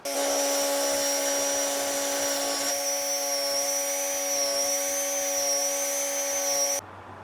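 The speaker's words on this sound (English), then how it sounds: "I'm going to use this to drill a hole through the places that I marked" A steady high-pitched whine of a small rotary tool with a diamond point bit drilling holes in a rawhide rattle, close and loud, stopping abruptly near the end.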